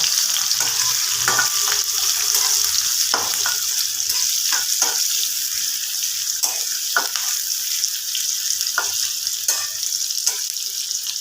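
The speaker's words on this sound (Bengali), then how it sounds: "আমি এর মধ্যে দিয়ে দেব পেঁয়াজ কুচি একটা পেঁয়াজ আমি কুচি করে রেখেছি দিয়ে দিলাম" Chopped onion frying in a pan, a steady loud sizzle running throughout with occasional scrapes and clinks of a stirring utensil against the pan.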